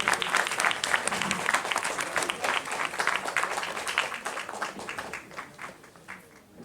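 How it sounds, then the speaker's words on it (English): An audience applauds at a ceremonial centenary event in Mumbai as dignitaries are invited onto the stage; dense, sustained clapping fills the clip, strongest at first and gradually thinning and fading toward the end. "A big round of applause, please."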